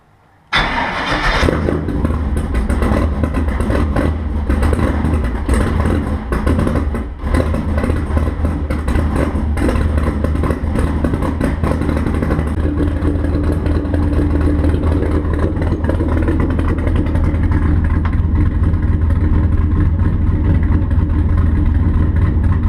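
A V8 (LS-series) engine in a C-10 truck cranks and starts in a garage, then runs loudly and steadily at a rough idle, with occasional revs.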